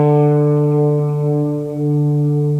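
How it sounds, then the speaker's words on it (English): Guitar run through the Boss DD-500 Canyon delay preset, modeled on the Tera Echo with a long 700 ms delay, rings out as sustained notes with a soft, reverb-like wash of repeats and no talking. "6A, the Canyon delay, based on Boss Tera echo"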